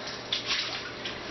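Beets being rinsed under a running kitchen tap, a steady close stream of water splashing with brief brighter gushes as the roots move under the flow, heard alone for just over a second.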